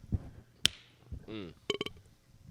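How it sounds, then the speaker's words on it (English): A few sharp claps ring out, one isolated then a quick cluster of three, with soft voices murmuring between them in a quiet space. "Big clappage. Big claps."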